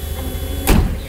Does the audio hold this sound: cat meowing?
no